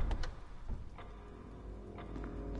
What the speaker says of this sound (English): I wish I could shut that fucking clock up.